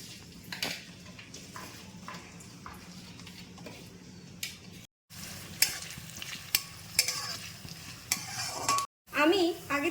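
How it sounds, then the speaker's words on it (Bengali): Chopped onions frying in hot oil in a wok, a steady sizzle with repeated stirring scrapes and light clinks of a utensil against the pan, close and alone with no talking. "আমি কড়াইতে তেল গরম করে নিয়েছি তাতে কিছু কুচনো পেঁয়াজ আমি ভেজে নিচ্ছি"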